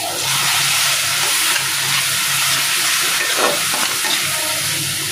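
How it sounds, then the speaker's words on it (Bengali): Spice paste stirred and fried in a pan, a loud continuous hissing sizzle with a faint scraping stir, close and steady throughout. "মশলাটাকে একটু নেড়ে চেড়ে"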